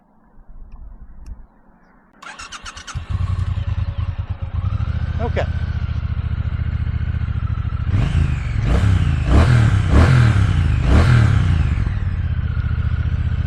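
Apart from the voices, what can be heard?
Triumph 1200cc parallel twin motorcycle engine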